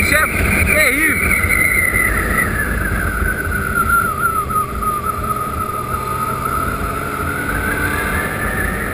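A motorcycle engine whines steadily at high revs descending the Serra da Graciosa mountain road, its pitch sliding slowly downward, with rushing wind noise throughout.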